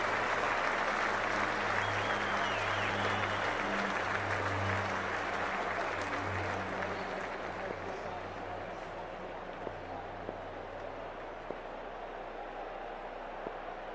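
Cricket 24 video game stadium crowd applauding in a steady, dense wash of clapping and cheering that fades gradually over many seconds, with a commentator's voice faintly underneath.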